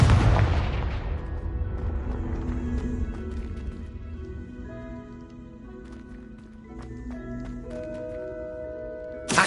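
Confringo fire spell blasting in Hogwarts Legacy, a loud booming explosion at the start that decays into a lingering rumble, followed by faint tonal chimes and small game effects.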